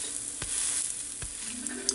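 Chocolate chip pancake batter sizzles in a hot pan after being flipped: a steady, close hiss with a couple of soft taps, and no talking.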